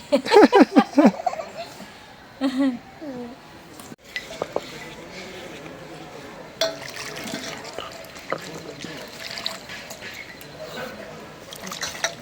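Water is poured and runs steadily in a home kitchen during cooking. Pots and utensils clatter, and brief voices come early on.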